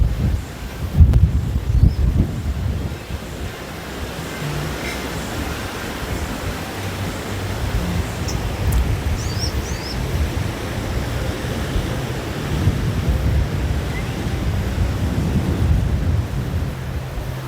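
Large sea waves roll in at Port Dickson beach in Malaysia, a broad, steady roar of surf mixed with wind noise that swells and eases without pause.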